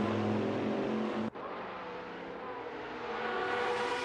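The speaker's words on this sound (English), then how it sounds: "LMP cars approaching them" LMP prototype race cars approach in a racing video game at the Red Bull Ring, with a loud, steady engine drone that cuts out briefly before resuming and swelling slightly toward the end.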